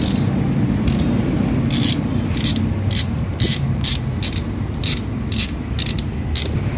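Ratchet wrench clicking in quick bursts while tightening the timing chain sprocket bolts on a Ford Ranger engine, repeated close ratcheting strokes over a steady low workshop hum.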